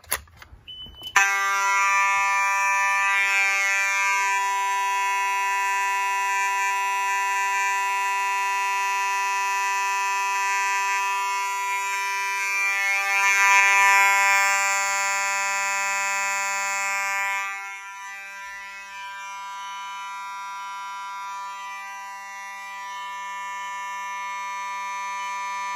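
A Simplex 4020 fire alarm system sounds continuously, a loud steady electronic buzzing horn tone rich in harmonics that runs unbroken for the whole stretch, dipping slightly in level near the end.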